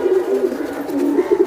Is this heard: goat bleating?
no